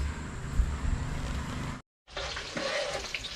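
Spring water on a farm in the Philippines pours steadily in a close, rushing stream, cut briefly by a short silence before the flow resumes.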